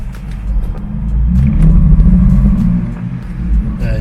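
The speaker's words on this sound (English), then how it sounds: "There's some serious misfiring at cylinder" A BMW with a cylinder 6 misfire runs with a loud, low, uneven engine rumble, stuttering and hesitating as it drives, heard up close from inside the car with no talking.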